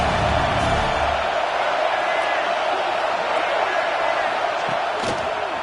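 A Georgia football stadium crowd roars on third down against Alabama, a loud, sustained wall of noise with a commentator talking over it.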